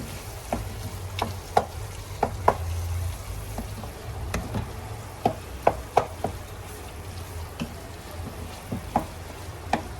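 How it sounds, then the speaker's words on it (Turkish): A spoon scrapes and knocks against a pan while Kayseri yağlaması filling sizzles and fries beneath it, sharp clicks scattered irregularly over a steady low hiss, close and fairly loud, no talking. "Şöyle bir karıştıralım."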